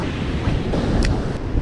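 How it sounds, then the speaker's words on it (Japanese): Strong surf and gusting wind batter the shore during a typhoon, with waves rumbling continuously and wind buffeting close to the microphone while someone fishes. "波も風もね、だんだん強くなってる。"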